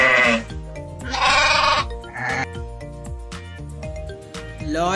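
An animal toy plays recorded sheep bleats, two or three loud wavering calls over a steady electronic melody, with no talk.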